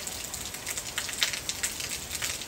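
Heavy rain falling in Guarujá, a steady, close hiss of drops pattering on surfaces with small irregular bursts, continuous and without voices.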